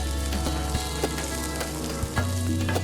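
Cabbage sizzling in a hot frying pan, a loud, dense crackle with occasional pops and stirring clatter, steady throughout with no talk.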